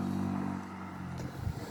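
A motorcycle engine drones steadily at close range, its low rumble shifting slightly as it moves, with a faint clatter near the end and no talk.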